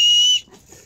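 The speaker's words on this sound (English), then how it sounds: "a whistle," A whistle built into a survival knife gives one loud, steady high-pitched blast lasting under half a second, then cuts off to quiet handling noise.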